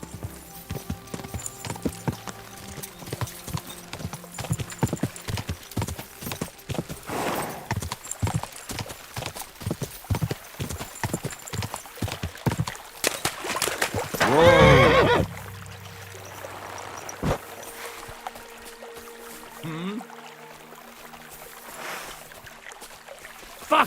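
A galloping horse in Kingdom Come: Deliverance 2 pounds out rapid, loud hoofbeats, then a sharp neigh rings out before the pace breaks off, leaving quieter ambience with scattered movement.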